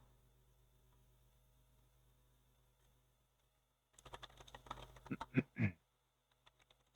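Quick bursts of computer keyboard typing during a Red Alert 2 showmatch stream, a short cluster of close clicks and taps after a few seconds of low mains hum and near silence.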